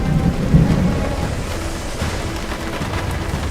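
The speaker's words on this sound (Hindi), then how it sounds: "अचानक बारिश शुरू हो गई।" Steady heavy rain hisses close by while deep rumbling thunder rolls underneath. The downpour starts suddenly on a cold evening near a roadside dhaba and carries on without any talking.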